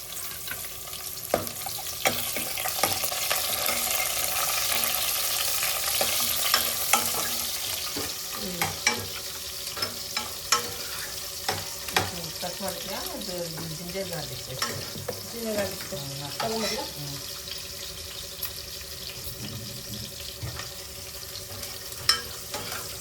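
Mustard seeds, curry leaves and onion crackle and sizzle in hot oil for a Tamil Nadu style mango sambar, with repeated scraping stirs of a spoon against the pan, close and steady, no voices.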